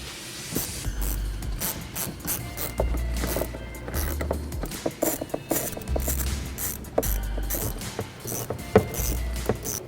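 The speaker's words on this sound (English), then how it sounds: "Once you get the tube in place in all the couplers, you can tighten down your clamps" A ratchet clicks in quick runs as hose clamps are tightened on an aFe cold air intake tube in a 2017-2018 Ford F-150 Raptor, with metallic rattles and brief pauses between strokes, close and fairly loud.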